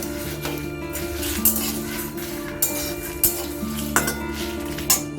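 Whole coriander and cumin seeds are stirred in a pan over a low flame, with a spoon scraping and clinking against the metal every second or so, under a steady faint sizzle and a sustained tonal hum.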